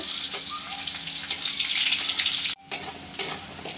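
Sliced onions fry in hot, smoking mustard oil with cinnamon, giving a loud, steady sizzle with stirring scrapes, briefly cut off before the frying noise resumes.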